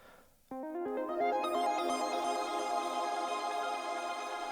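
Spire synth in FL Studio playing even, evenly spaced notes that start abruptly after a brief quiet moment, building into a bright sustained tone that rings on, loud and alone.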